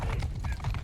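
Horses galloping in the Mount and Blade 2 Bannerlord video game, a dense, steady drumming of hoofbeats at close range with no talk over it.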